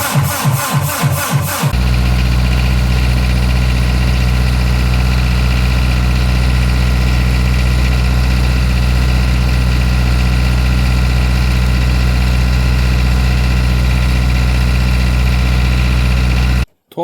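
A new diesel generator engine cranks in a few quick bursts, catches, and settles into a loud, steady idle with a constant drone that runs unbroken until it suddenly cuts out at the very end.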